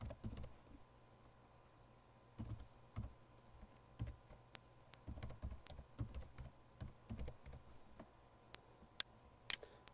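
Quiet computer keyboard typing while a user's name is entered into a business software form: scattered, irregular clusters of light key clicks, soft and close, with a faint background hum and no speech.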